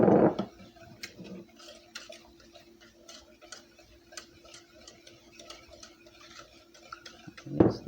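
A whisk clicks steadily against a bowl while sugar is beaten into a German chocolate cake mixture, producing quick, light, rhythmic ticks, with louder knocks at the start and end.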